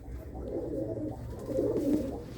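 Racing pigeon hens in a rooftop loft coo in a dense, steady murmur of low throaty calls, swelling slightly toward the end, close and moderately loud with no talking.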